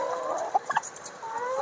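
A farm chicken gives a few short, soft clucks close by, over a quiet room hum.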